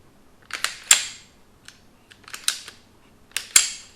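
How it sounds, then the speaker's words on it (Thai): The upper slide of a SIG P320 is fitted into an FCU X01 conversion kit, giving sharp, close mechanical clicks and snaps in short clusters separated by brief quiet. "แล้วเราก็เอา สไลด์ชุดบนของเราเนี่ยใส่เข้าไปปกติเลย"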